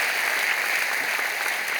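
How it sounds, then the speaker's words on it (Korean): Church congregation applauding to welcome newly baptized children during Sunday worship: an even, sustained patter of many hands clapping throughout, moderately loud and unbroken. "여러분 큰 박수로 사랑으로 환영하시기를 바랍니다."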